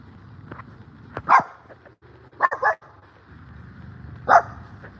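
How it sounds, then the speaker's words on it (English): Several small yappy dogs bark in short, sharp bursts, with a couple of louder close yaps and scattered fainter ones over a steady low background hum. "There's a lot of yappy dogs back here."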